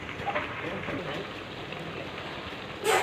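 Bay leaf, dried chilli and chopped onion sizzle in hot oil in a wok, a steady close crackling hiss with a voice talking over it and a louder burst at the end.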